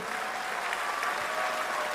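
Crowd applauding at a state event honouring the Malaysian Prime Minister, steady, dense clapping from a large audience heard at a distance, with no voices.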